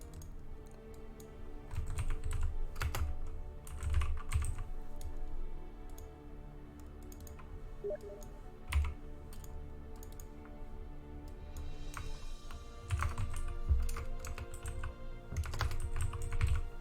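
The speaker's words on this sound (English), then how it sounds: "Got too much stuff in front of my keyboard, I can't type properly." Someone types on a computer keyboard during a netplay gaming session, a dense run of quick soft key clicks and thumps, close and steady throughout with brief lulls, no talking.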